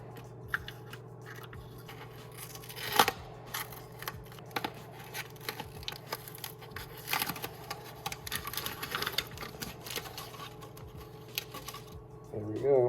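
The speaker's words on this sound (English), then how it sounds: "I shoved this bolt in here so I can kind of grab it and pull all this tape off." Masking tape is peeled off a freshly painted part for a Triumph GT6 oil filtration upgrade, giving close, irregular crackles and small snaps throughout, with a louder rip near the end.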